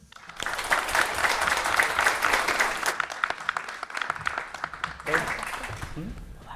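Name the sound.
audience applause welcoming conference panelists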